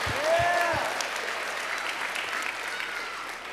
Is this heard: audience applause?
yes